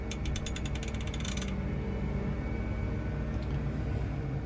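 A tractor's rear three-point hitch is raised and lowered with the armrest position dial, giving a rapid ratcheting click train for about a second and a half, then a steady mechanical hum with a faint creak.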